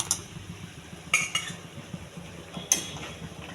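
A spoon stirs chili powder, garam masala, salt and turmeric into a mushroom curry in a pan, giving a few quiet, scattered metallic clinks and scrapes over a near-silent background.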